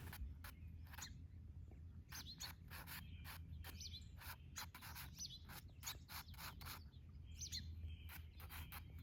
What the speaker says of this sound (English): that little bird flitting across my vision, and it's beautiful